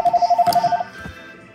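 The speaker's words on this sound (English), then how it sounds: "Hurry up, phone's ringing." A phone gives a fast run of short, evenly spaced electronic beeps for under a second, then falls quiet.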